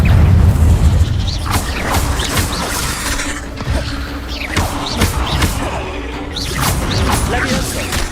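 A fire-casting spell from Hogwarts Legacy crackles and whooshes through dense game action, with repeated bright bursts and thuds over a steady low rumble lasting several seconds.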